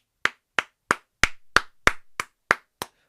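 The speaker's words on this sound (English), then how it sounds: "I'm going to give a round of applause here." Nine slow, evenly spaced hand claps from a single person, crisp and close in an otherwise quiet room.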